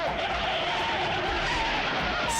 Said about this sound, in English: A mammoth courier truck swerves to avoid the patrol car, but can't prevent triggering carnage, creating a 7-car pileup.